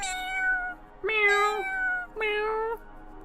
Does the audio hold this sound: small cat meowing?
yes